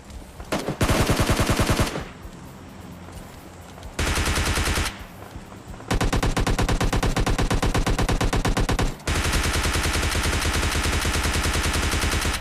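Loud, sustained automatic gunfire in PUBG Lite, rapid bursts broken by a few short pauses, close and continuous through most of the clip.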